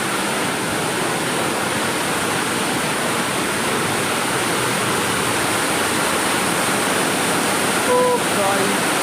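A waterfall in Dehradun roars as a steady, loud, broadband rush of falling water that fills the whole stretch without pause.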